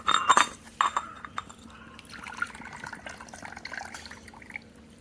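A glass of water is handed over in a home kitchen, with a couple of sharp clinks at the start followed by soft splashing and dripping at close range.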